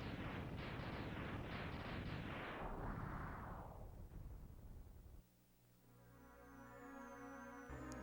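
A character blows up in a video game, a heavy rumbling blast with crackling debris that decays over several seconds before giving way to quieter game music.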